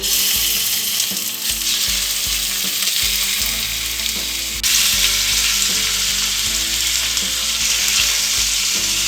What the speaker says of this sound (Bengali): তেল গরম হয়ে গেছে, এবার এতে নুন হলুদ দিয়ে ম্যারিনেট করা মাংসগুলোকে দিয়ে দিচ্ছি।